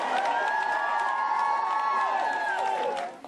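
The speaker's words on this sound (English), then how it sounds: "greeted by a cheering crowd of fans and hospital staff" A cheering crowd of fans and hospital staff welcomes an arriving royal couple outside the Royal Marsden Hospital in Sutton, a dense sustained roar of shouts and whoops that holds steady, then fades at the end.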